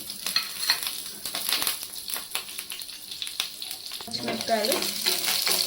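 Cumin seeds and green chillies fry in hot oil with a dense crackling sizzle full of quick pops, close and fairly loud, joined near the end by a louder rushing, watery hiss; no talking.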